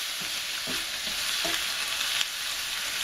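Cabbage with bacon and light soy sauce stir-frying in a pan, a steady close sizzle with a few soft scraping stirs and no talking.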